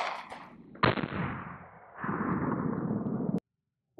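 A single loud gunshot goes off at an armor vest during a test with 115 grain ammunition. A sharp crack is followed by a rolling outdoor echo that fades, then a brief silence.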